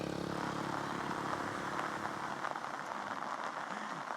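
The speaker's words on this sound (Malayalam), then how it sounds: "കാരണം രാവിലെ മുതൽ നല്ല മഴയാണ്" Heavy morning rain falling in Chennai ahead of a cyclone, a steady, fairly soft wash of hissing drops that continues unbroken, with a low mechanical drone beneath and no one speaking.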